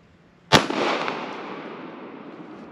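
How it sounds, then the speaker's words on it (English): A single sharp, loud impact of a subsonic home-defense bullet fired into a wall, followed by a long decaying rumble and debris hiss, with no talking. "Second bullet going into the wall."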